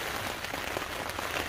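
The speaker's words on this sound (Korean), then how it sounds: "텐트를 두드리는 빗소리가" Heavy rain drums steadily on a tent at night during a backpacking trip on Oseosan, a dense, constant patter close overhead with no voices.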